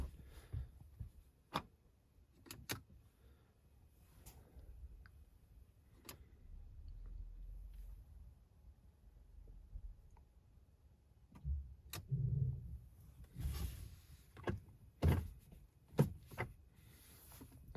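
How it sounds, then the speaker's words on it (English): Small plastic clicks and snaps ring out from a Volvo XC60 gear lever as the gaiter is popped loose from the console, scattered sharp ticks over a quiet background with no talk. "So we start by popping the gaiter out."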